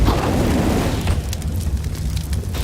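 An incendiary grenade igniting and burning in a Counter-Strike match, a loud, dense roar of flame with crackling bursts that holds steady for a couple of seconds, without talk.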